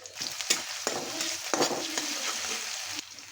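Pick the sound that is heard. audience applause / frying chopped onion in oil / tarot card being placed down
frying chopped onion in oil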